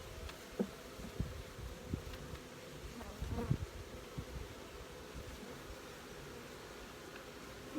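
Agitated honeybees in a queenless hive buzz steadily up close, a dense continuous hum with brief louder bursts as individual bees fly near, no voices.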